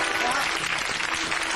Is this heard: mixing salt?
no